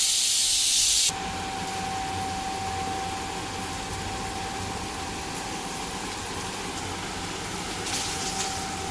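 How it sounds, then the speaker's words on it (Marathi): Pomfret fish pieces fry in hot oil, a continuous hissing sizzle heard up close that stays steady throughout, following a short louder burst at the start, with no talk. "ह्याचप्रमाणे मी बाकीचे हे सगळे फ्राय करून घेते."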